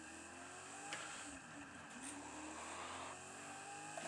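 A car drifts in the racing video game Forza Horizon, its engine holding a steady high drone with a faint tire squeal layered in, continuous and moderately quiet, with no voices.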